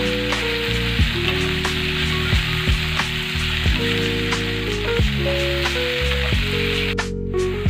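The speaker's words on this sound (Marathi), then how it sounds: "आता आपलं सुकट पण छान प्रकारे परतून झालेले" Dried fish (sukat) frying in a pan for a spicy curry, giving a steady, close sizzle throughout with faint stirring scrapes and no talking.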